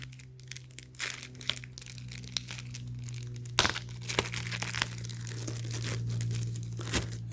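HP clear tape being pulled and torn off an HP 14-inch Intel i3 laptop box, close crinkling and stretching with sharp ripping snaps, one louder tear near the middle, over a low steady hum.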